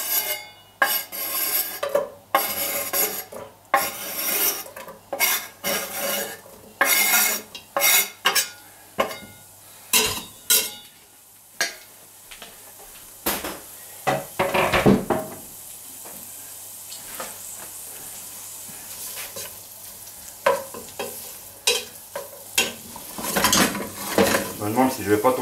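Lardons hit hot lard in a pan and crackle into a bright sizzle, broken by frequent sharp clatters of a utensil against the pan.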